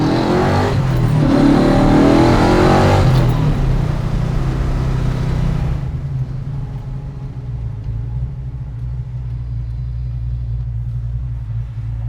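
A Roadster Shop-built 1971 Chevrolet El Camino hot rod engine revs loudly up close, a heavy rumbling rise that then settles into a steady, deep idle burble.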